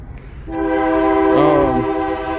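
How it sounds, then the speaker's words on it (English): A train horn sounds in the background of a garage where a 1966 Cadillac four-door hardtop awaits an LS swap, a long sustained blare that swells in the middle and holds steady, fairly loud and alone. "you hear the train back there in the background"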